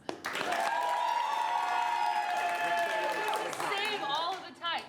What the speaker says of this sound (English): Just clapping.